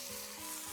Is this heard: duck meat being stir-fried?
yes